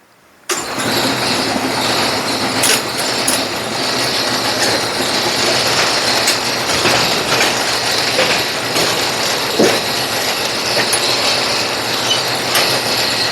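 A Brunswick A2 bowling pinsetter with gearbox trouble and a late-stopping clutch cycles steadily, a loud, continuous mechanical clatter and rumble that starts abruptly after a brief quiet moment and runs without pause.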